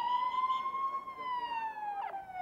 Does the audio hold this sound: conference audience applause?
no